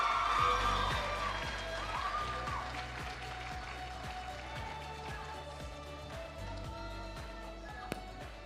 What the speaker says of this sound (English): Can we give them a round of applause up until they're on stage?